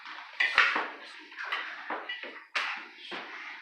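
A spoon stirring oatmeal in a pot on the stove, scraping and clinking against the metal in irregular strokes, close and moderately loud with no talking.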